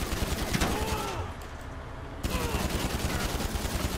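Gunfire in GTA 5 Online, rapid sustained bursts of shots with a brief lull in the middle before the firing resumes, moderately loud.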